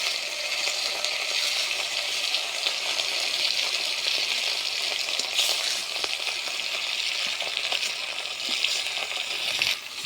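Fish coated with turmeric and chili powder fries in hot oil, giving a steady, loud, close sizzle with faint crackles and pops that continues throughout without any talking.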